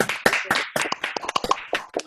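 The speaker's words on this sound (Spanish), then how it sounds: "les quiero pedir un gran aplauso virtual" Virtual applause from seminar participants, heard as a short run of separate, fairly close hand claps in an uneven rhythm, like a few people clapping over an online call.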